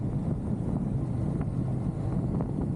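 Steady low rumble of a motorcycle cruising on a freeway, with constant engine drone and heavy wind buffeting the microphone throughout, no voices.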